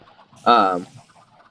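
A chicken on a small egg farm in a video game gives one short, loud, nasal cluck over a quiet background.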